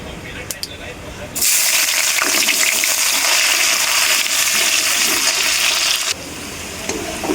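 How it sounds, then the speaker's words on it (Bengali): Chopped onion drops into hot oil in a home kitchen pan, already holding whole cumin and three dried chillies, setting off a sudden loud, steady sizzle that lasts several seconds before dying down. "এবারে আমি পেঁয়াজ কুচিটা দিয়ে দেবো"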